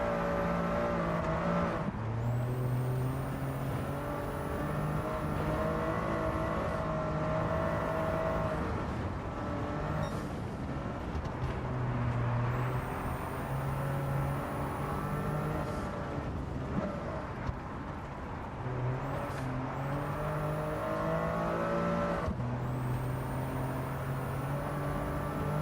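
A Morizo-edition car's engine in Gran Turismo 7 drones steadily and loudly throughout, its pitch rising and dropping back at several gear changes while the car keeps up speed. No one speaks.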